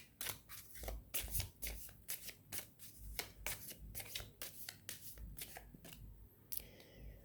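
Tarot cards being shuffled close by, a run of quick papery riffles and slaps in irregular bursts, fairly quiet and without talk.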